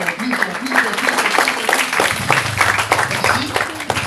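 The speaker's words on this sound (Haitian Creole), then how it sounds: "on applaudit M. Jean-Michel très fort" An audience at a public event claps for a speaker, steady scattered applause throughout with a voice talking over it.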